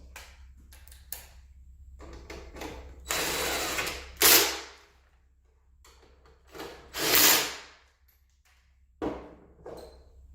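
Bolts being run back in with a 7/16 wrench during battery replacement on a Magliner Motorized Gemini hand truck make intermittent bursts of mechanical whirring and ratcheting, each lasting about a second, separated by quiet gaps.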